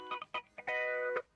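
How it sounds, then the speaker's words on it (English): Electric guitar with a phaser effect plays a few short plucked notes and then one sustained ringing note, fairly quiet and alone without other instruments. "Electric guitar 1 with a phaser effect."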